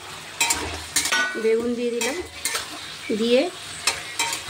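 Eggplant pieces drop into a pan of frying potato and palta greens, giving a steady sizzle with stirring clatter and brief utensil knocks while a voice speaks between them.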